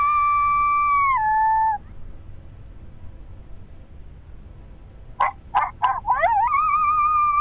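Coyotes howl at night in long, sliding tones that open the passage and return at the end, broken by a quick burst of sharp yips before the final rising howl, with a quiet stretch in between.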